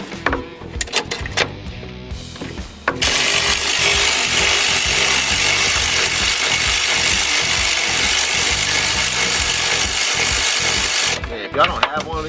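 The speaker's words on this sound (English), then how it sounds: "I highly recommend you getting the electric ratchet." An electric ratchet whirs steadily on a boosted H22A-swapped EF hatchback, starting after a few seconds of short clicks and clatter and running loud and continuous for about eight seconds before stopping.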